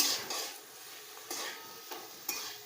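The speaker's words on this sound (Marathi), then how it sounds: "असं चांगलं असं परतून घ्यायचं बटाटा" Potato pieces being sautéed for a spicy rassa curry are turned with a spatula in a pan, about four scraping strokes over a faint sizzle, close and without talk.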